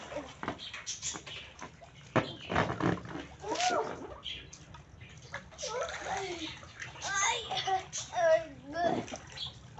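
Water sloshes and splashes in a small backyard swimming pool as someone bathes, coming in uneven bursts under a child's chatter and other voices.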